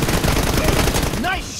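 Gunfire rattles in a PUBG Mobile Lite match, a short loud burst of rapid shots over dense game noise.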